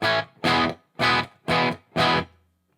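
Five loud, evenly spaced distorted guitar chords through a Line 6 Helix amp preset with subtle always-on reverb, each strike ringing briefly before a short, fairly dry tail fades out.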